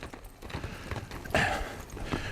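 Hooves of a filly not quite two years old, fresh off the range and never handled, clop in an uneven run of close, soft thuds with no talking.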